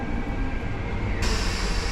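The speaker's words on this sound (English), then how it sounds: "we finally got on the train" Steady rumbling train ride through Paris, a dense broadband roar of wheels and carriage noise that grows brighter and louder partway through, with no talking.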